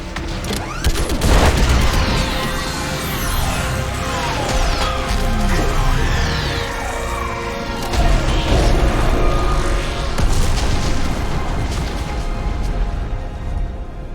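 Orbital strike explosions from the Mass Effect 3 mission on Rannoch make a continuous barrage of heavy booms and crashing impacts, dense and loud, with mechanical noise layered through the whole stretch.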